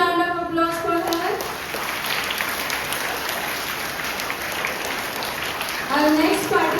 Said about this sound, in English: Give a huge round of applause for her.